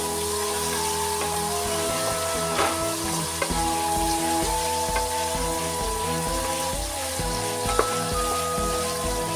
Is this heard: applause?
no